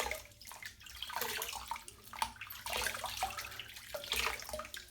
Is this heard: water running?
yes